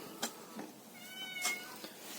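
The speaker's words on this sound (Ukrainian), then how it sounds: "Якась кицінька тут ходить, нявкає вам" A stray cat meows softly nearby on a farmyard in winter during morning chores with hens, a thin drawn-out cry rising and falling, alone and fairly faint.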